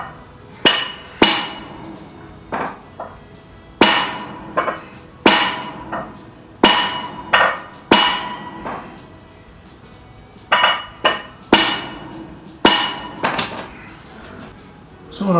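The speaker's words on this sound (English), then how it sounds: "I just gave it a bit of a hit, close those gaps up" Metal is hammered to close gaps before welding: loud, ringing blows fall in irregular clusters over about fifteen seconds, with short pauses between the groups.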